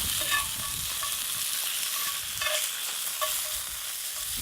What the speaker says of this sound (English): he's currently cooking his lamb on the fire